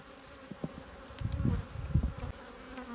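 Honey bees hum and buzz around an open hive being checked before splitting, a low, uneven droning that rises and falls, with faint handling noises nearby.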